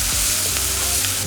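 Chicken curry with chilli and cumin powder fries in a pan, a close, dense crackling sizzle that holds steady and loud for the whole short moment.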